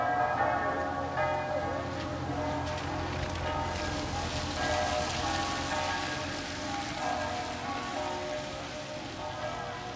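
A light rain shower at the Lourdes Sanctuary in France patters and hisses steadily on surfaces, fairly faint, with church bells ringing in the distance through the whole stretch.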